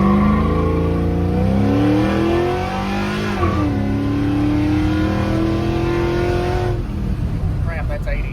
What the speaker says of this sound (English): We'll just do the dead stop and then full throttle